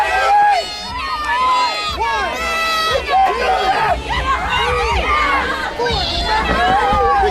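A crowd of children at a live wrestling event in Verdon shouts and jeers at a wrestler, making a loud, continuous mix of yells, whoops and chatter with many overlapping voices.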